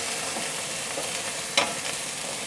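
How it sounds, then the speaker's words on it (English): Steady crackling sizzle of chickpeas frying in hot oil, continuous and close, with a brief sharper clink partway through. "listen to that. The sizzle of delight."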